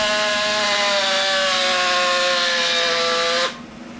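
A damaged electric drill running badly, a loud whining, grinding motor tone that slowly drops in pitch before stopping abruptly, close up with no talking.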